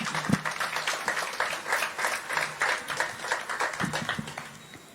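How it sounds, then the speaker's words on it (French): An audience applauds a singing group at a tribute event in Guadeloupe, with a steady, moderately loud patter of many hands that fades slightly toward the end. "je vous laisse avec ce groupe que je vous demande d'applaudir très très fort"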